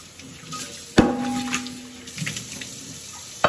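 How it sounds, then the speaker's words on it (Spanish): Water splashes and runs into a basin while mangoes and a dish are washed, with a sharp knock of the container, a ringing tone, and ongoing trickling and sloshing close by. "Aquí vamos a empezar a lavar los manguitos. Voy a lavar este traste para ponerlos."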